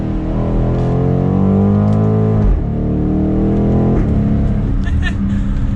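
A 2022 BMW X5 M50i in Sport Plus mode accelerates hard in second gear, its engine and exhaust rising in pitch with two quick upshift dips, loud and close from inside the cabin.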